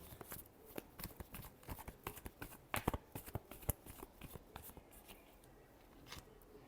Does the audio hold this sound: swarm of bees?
no